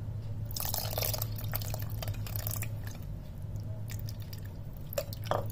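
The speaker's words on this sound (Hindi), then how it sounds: "अब इसमें डालेंगे इमली का पानी।" Tamarind water poured into black masoor dal cooking with spices, heard as wet splashing and dripping bursts over a steady low hum of the stove.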